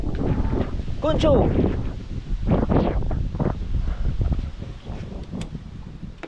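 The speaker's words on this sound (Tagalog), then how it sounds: "Lakas ng hangin." Strong wind gusts roar and buffet the microphone outdoors in a continuous, loud rush, while voices shout and talk over it.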